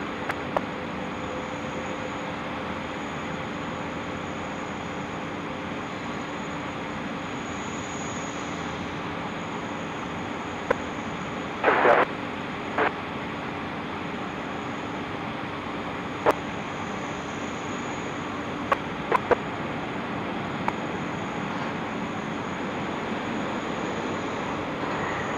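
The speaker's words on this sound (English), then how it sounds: "It's the A359 coming in from Los Angeles." A Delta Airbus A350-900 arriving from Los Angeles at Sydney Airport at night gives a steady, distant jet roar that holds level throughout, with a few faint clicks and knocks scattered across it.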